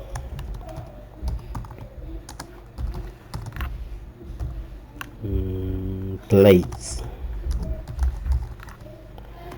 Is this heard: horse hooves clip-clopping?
no